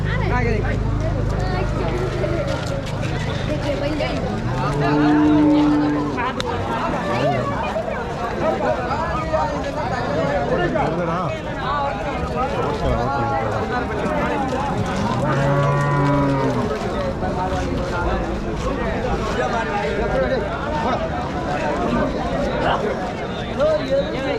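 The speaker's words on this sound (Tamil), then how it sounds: "கண்ணுக்குட்டியோட மாடு இருக்கு." Cattle, including cows with calves, low at Vaniyambadi cattle market in Tirupattur district, with two loud drawn-out moos standing out over a constant crowd hubbub and voices.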